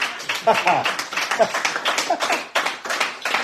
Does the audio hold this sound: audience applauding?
yes